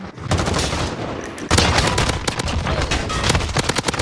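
An MP5 submachine gun in a video game fires in rapid continuous bursts, loud and close, with dense rattling shots filling the whole stretch.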